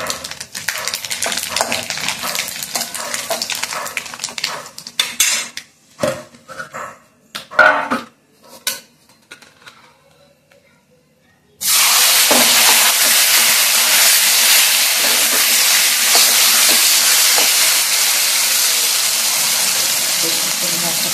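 Dried red chilli, bay leaf and black cumin hit hot oil for a kacchu shak dish with hilsa fish head, a loud, steady hiss of frying that starts abruptly and holds after a stretch of scattered kitchen noises.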